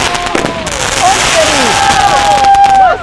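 Loud Diwali fireworks, a big shot, burst close by, with rising whistles and dense crackling over a continuous roar, and voices of a crowd mixed underneath.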